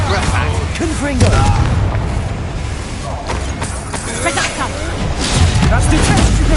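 Booming blasts from the Confringo explosion spell in the game Hogwarts Legacy burst repeatedly over dense battle noise, loud and close, with people talking excitedly throughout.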